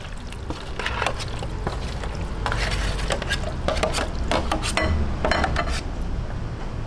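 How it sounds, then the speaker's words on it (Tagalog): Buko pandan dessert mixture with gulaman being stirred in a bowl, a string of clinking, scraping utensil strokes against the container, fairly close and irregular, with no talking. "ngayon paghahalu-haluin lang po natin"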